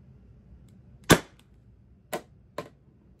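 Three sharp pneumatic shots from a charged Pepperball TCP launcher: one loud crack, then two lighter pops about a second and half a second apart, with nothing else audible in between.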